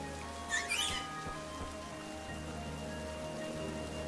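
Steady light rain patters in the Pokemon Shield video game, a soft, even hiss under a low hum, with a few brief chirpy sounds near the start.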